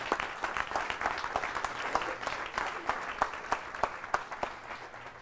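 A lecture audience at a Greater Cleveland health care talk applauds a speaker, a sustained patter of many hands with sharper individual claps poking through, fading slightly toward the end.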